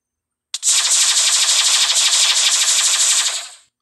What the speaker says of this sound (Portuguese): Quando você agacha, ele atira com essa arma que tem no, no ombro dele.